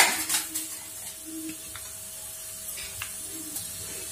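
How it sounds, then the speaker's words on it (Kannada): Mustard seeds, cumin and urad dal sizzle in hot oil for a bean sabji, a steady close frying hiss with a few faint crackles and pan clinks, no talking. "ಓಕೆ, ಸ್ವಲ್ಪ ಜೀರಿಗೆ ಹಾಕೊಳ್ತೀನಿ ಈಗ, ಜೀರಿಗೆ ಉದ್ದಿನ ಬೇಳೆ ಹಾಕೊಳ್ತೀನಿ"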